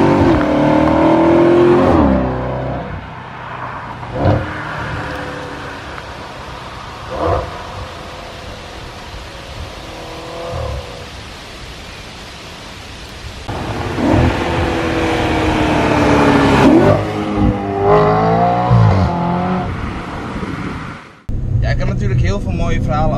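Audi RS5 engine revving loudly as heard from outside the car, with repeated throttle blips and a sustained roar; people talk over parts of it.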